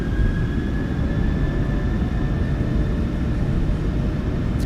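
Steady, loud jet engine roar from a PMDG 737-900ER spooling to takeoff power in the MSFS2024 flight simulator, a continuous broadband rumble with a faint whine, unbroken throughout.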